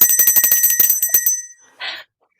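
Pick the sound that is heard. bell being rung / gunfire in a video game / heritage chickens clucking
bell being rung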